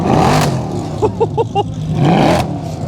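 At a race circuit, the engine of an old Nissan-era racing car idles roughly and gives a few quick revving blips in the middle, close and loud, with crowd noise around.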